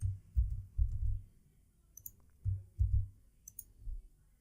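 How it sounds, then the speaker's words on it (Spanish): A couple of sharp computer mouse clicks land near the 2- and 3.5-second marks during a MySQL web programming lesson, quiet and crisp over a muffled low thumping background. "Entonces le doy clic en continuar"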